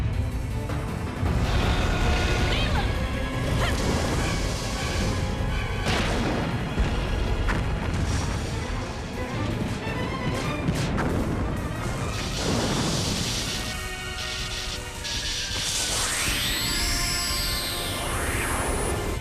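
A loud, drawn-out explosion and crashing debris in the PS1 video game Dino Crisis, dense rumbling chaos with metallic clangs, then shrill whining and alarm-like tones near the end, no voices.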